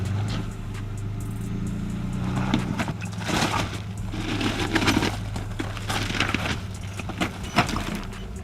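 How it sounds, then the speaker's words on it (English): Nissan Pathfinder SUV straining on an off-road diagonal suspension test, a steady engine drone with scraping, creaking and knocking bursts as the wheels lose grip, close and continuous. "One more attempt, but the Pathfinder can't drive out of the diagonal suspension."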